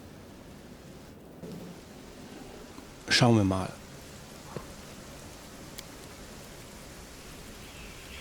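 Steady rain with distant rumbling thunder from the fantasy role-playing game Pathfinder: Wrath of the Righteous, a soft continuous wash under a brief burst of speech and a few faint clicks.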